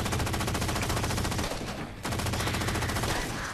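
Rapid automatic fire from a new gun in Halo 4, a dense, loud stream of shots with one brief pause midway before firing resumes.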